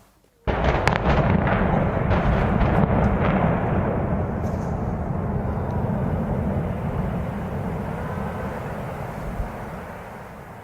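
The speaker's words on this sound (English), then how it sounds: "They just had to blow everything up first." Controlled demolition blasts bring down power plant towers: a sudden crackling volley of charges erupts into a massive, sustained rumbling roar that slowly fades over ten seconds, loud and distant, with no talk.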